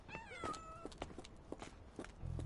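A cat meows a few times in the Sherlock Holmes video game, short rising cries near the start, followed by soft ambient clicks and a low thump at the end, with no one speaking.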